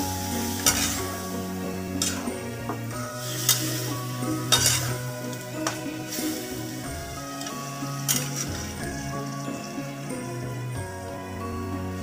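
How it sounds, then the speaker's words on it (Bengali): Banana flower curry stirred with a little water in a pan: scraping spoon strokes and clanks at irregular intervals over a steady low sizzle, close and fairly loud. "এবার সামান্য জল দিয়ে ভালো করে নেড়ে নেব।"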